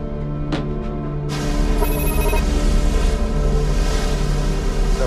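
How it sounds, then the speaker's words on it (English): A mobile phone rings aboard a naval patrol boat, its steady electronic ringtone starting abruptly and carrying on over a constant low engine hum. "Yan Lin's phone."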